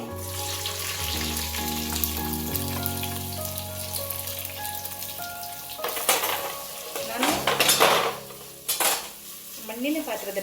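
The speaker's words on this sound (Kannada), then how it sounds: "ಈಗ ಈರುಳ್ಳಿ ಹಾಕ್ಕೊಳ್ತಿದ್ದೀನಿ." Onions frying in a clay pot while a wooden spoon stirs and scrapes, a loud sizzle with clattering pot knocks growing busier toward the end, close by, with music underneath.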